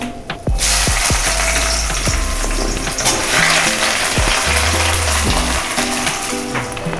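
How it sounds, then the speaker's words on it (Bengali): Onion frying in a pan for an Indian potato curry, a steady sizzle throughout with repeated scraping and stirring knocks of a utensil against the pan, close and fairly loud, no talking. "এবারে পেঁয়াজ দিয়ে দেবো"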